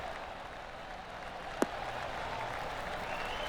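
Steady golf crowd applause in the video game PGA Tour 2K23, soft and even, with one sharp click cutting through midway.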